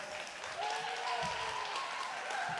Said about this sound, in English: can I get a big round of applause for moderator Doug?